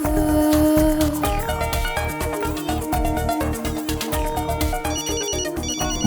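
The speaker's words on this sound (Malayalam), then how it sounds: "ഫോൺ അടിക്കുന്നത് കേട്ടില്ലേ?" A phone rings with a loud, melodic electronic ringtone that repeats its bright tune continuously with no voices over it.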